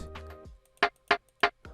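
Afrobeats percussion elements: a short tonal hit, then three sharp, evenly spaced bright clicks, close and dry, with no talking.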